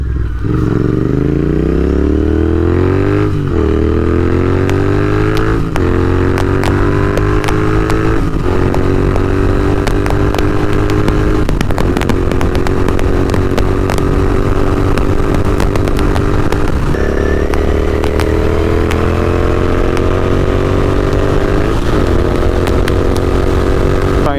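Royal Enfield Interceptor 650 motorcycle engine on a ride, loud and close, its exhaust note climbing in pitch through repeated gear changes, with a sharp drop each time the rider shifts and steady engine drone between shifts.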